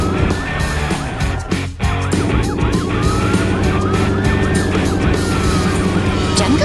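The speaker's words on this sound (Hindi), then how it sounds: "सायरन की गूंज और पहियों की रफ्तार के साथ पुलिस की बस और एम्बुलेंस" Loud wailing sirens from a police bus and ambulance in a cartoon rise and fall continuously over engine rumble, several tones overlapping close by as vehicles pass.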